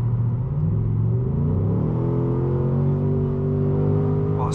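A Ford Mustang GT V8 convertible accelerating, its deep engine roar climbing steadily in pitch through the gear under heavy throttle, loud and close from inside the car with no talking.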